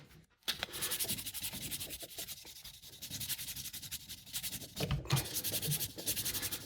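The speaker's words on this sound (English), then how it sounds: "just hitting it with 1200 grit already polishes it all off" Rapid back-and-forth rubbing strokes of 1200 grit sandpaper polish the frets of a 60th Anniversary Fender Telecaster, close and soft, in quick rhythmic bursts with brief pauses and no talking.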